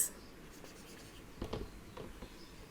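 Pen or pencil writing out a math answer on paper, faint soft scratching strokes in a quiet room, with a few slightly firmer marks near the middle.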